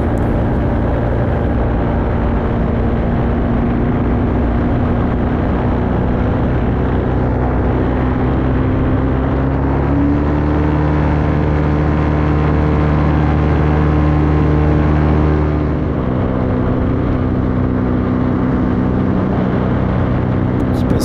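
A light aircraft engine drones loudly and steadily during a low flight over villages, heard up close. Its pitch shifts slightly twice as the power changes, with no break in the constant hum.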